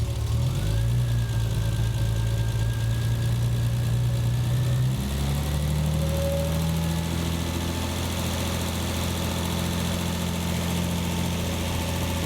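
A Triumph TR6 engine idles after a carburettor-to-fuel-injection conversion during a tune-up, holding a steady, close, throbbing hum whose pitch drops midway as the revs are lowered.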